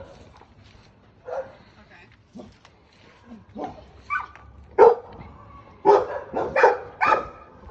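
A dog barks in short, sharp bursts, sparse at first then coming quicker and louder toward the end, with faint voices in the background.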